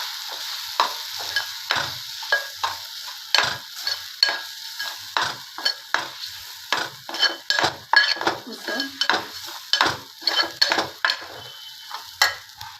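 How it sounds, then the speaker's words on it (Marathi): A spoon scrapes and clinks in a pot as soybean curry masala with red chili powder is stirred and sautéed, repeated rhythmic scraping strokes over a soft sizzle, close and alone. "लाल तिखट 2 चमच। परत एकदा परतवून घ्यायचं।"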